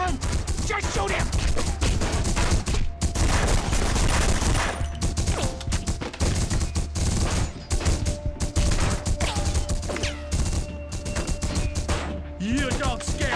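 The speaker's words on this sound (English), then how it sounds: "Open fire, everyone!" Sustained gunfire in a chaotic shootout from The Punisher on PS2, dense overlapping shots and impacts over a constant loud background, with game voices shouting throughout.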